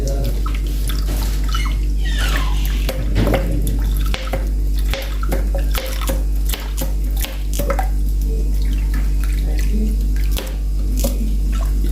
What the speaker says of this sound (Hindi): ये मैंने 1 कप ही इसमें सिरका शामिल कर दिया है